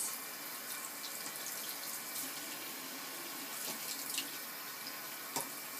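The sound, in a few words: rinsing soapy makeup brushes under running tap water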